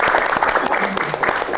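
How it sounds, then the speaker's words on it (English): Loud, dense applause from an audience at a live question-and-answer event, a brief burst of many hands clapping together with a lively crowd feel. "Kita kasih applause sekali lagi dong yang paling meriah."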